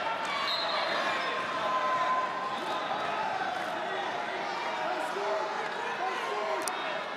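A crowd of NC State fans cheers steadily through a college wrestling semifinal at the ACC Championship, a dense, sustained roar with occasional sharp bangs on top.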